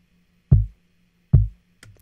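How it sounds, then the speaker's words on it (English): Two punchy, booming kick drum hits from a layered kick track in a mix, evenly spaced and loud, followed by a softer third thump with a brighter click, over a faint low hum. "This kick layer track that's right under here adds a bit of character"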